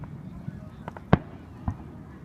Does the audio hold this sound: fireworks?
yes